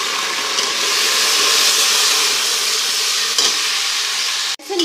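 Garlic ginger paste sizzles and fries among golden-browned onions in a pan, a steady close hiss with occasional stirring, ending in a brief clatter.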